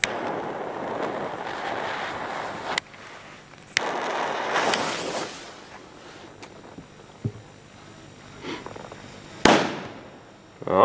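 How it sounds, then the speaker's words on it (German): Weco Sachsenknaller black-powder firecrackers go off outdoors, with several sharp bangs and bursts scattered over a noisy background, some loud and close, others more muffled, with no speech. "So, Weco Sachsenknaller."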